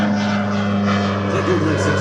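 A large Golden Knights parachute team airplane passes overhead at a military air show, its steady engine drone loud and continuous with a low hum throughout, a faint voice underneath.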